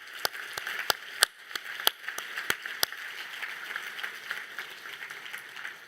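An audience at an International Mathematics Olympiad closing ceremony breaks into applause for a team: sharp, scattered claps in a large hall, dense at first and thinning toward a softer patter, with no voices over it.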